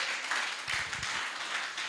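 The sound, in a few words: audience applause at summit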